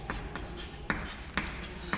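Marker or chalk strokes on a board come as a few short, scratchy bursts spaced roughly half a second apart, close and fairly quiet over a low room hum, with no talking.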